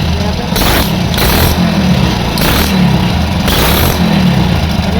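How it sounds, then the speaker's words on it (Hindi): Idling Hero Passion Pro motorcycle engine with a leaking head gasket, loud and close, chugging in an uneven putter with periodic hissy bursts of escaping gas roughly every second. "यही हेड जो है कंप्रेसर वीक कर रहा है, वही जो है फट फट आवाज़ कर रहा है"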